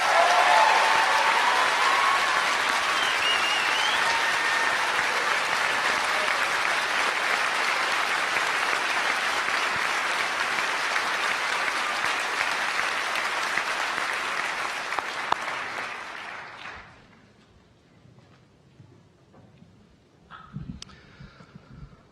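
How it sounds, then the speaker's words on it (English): Sustained applause from a large audience at an astronaut class graduation ceremony, loud and steady for about fifteen seconds before fading out to near silence with a few scattered sounds at the end. "one last applause for our newest astronaut class"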